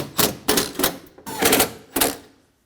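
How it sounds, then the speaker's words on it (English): A ratchet tightens bolts on the front power window regulator of a 2009-2014 Ford F-150, giving several short close bursts of quick clicking separated by brief pauses, the last burst fading out. "snugging down the rest of our bolts too"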